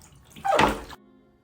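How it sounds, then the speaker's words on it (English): Water sloshes and splashes briefly in a bathtub as dyed jeans are rinsed, one short burst of moderate loudness rising and ending abruptly. "it's time to take out the water and start rinsing"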